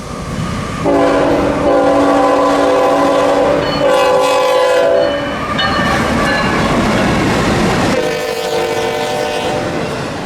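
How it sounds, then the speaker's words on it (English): A CSX intermodal freight train, Q603, rolls past in Folkston, Georgia, sounding its horn in long loud blasts over a steady rumble of wheels and engines close by. "The third intermodal in a row was Q603, daily Jacksonville to Chicago"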